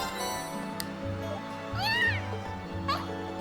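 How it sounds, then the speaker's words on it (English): A cat meows in the video game Trails of Cold Steel, with two short, clear meows, the first longer and rising then falling, the second briefer, over soft game background music. "We have a cat."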